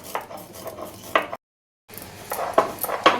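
Roasted spices ground by hand on a stone shil grinding slab, giving a rough scraping and knocking texture. Gritty strokes come in irregular bursts, close and fairly quiet, with a brief silent gap partway through.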